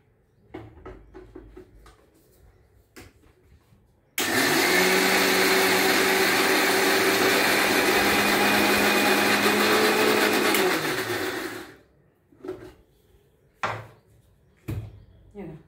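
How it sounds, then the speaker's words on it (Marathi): Mixer grinder blending cooked urad dal, a loud steady whirring roar that starts abruptly, runs for several seconds and then winds down, with quieter kitchen handling sounds before and after. "उडदाची डाळ शिजवलेली आपण मिक्सरमधून बारीक करून घ्यायची"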